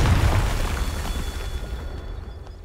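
A Confringo fire spell bursts in Hogwarts Legacy, a loud low boom at the start that rolls off into a fading rumble and crackle over about two seconds.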